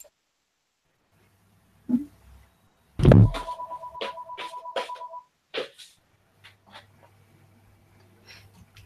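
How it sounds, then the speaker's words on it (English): A mobile phone rings indoors with a short electronic tone melody lasting about two seconds, preceded by a couple of soft knocks and followed by faint scattered clicks and a low hum. "Oh, excuse me, it's my phone."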